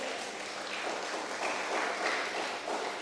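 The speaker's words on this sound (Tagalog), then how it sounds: "Palakpak naman dyan." Scattered applause from a congregation at a Sunday morning Ilocano worship service, a soft, steady patter of hands heard from a distance for a few seconds.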